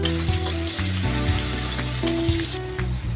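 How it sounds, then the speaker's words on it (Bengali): Onions tipped into hot oil for a snakehead fish and cucumber curry, giving a loud, dense, continuous sizzle right up close with no talking. "এখন আমি মশলাগুলি ভেজে নিচ্ছি। পেঁয়াজ দিচ্ছি তেলের মধ্যে।"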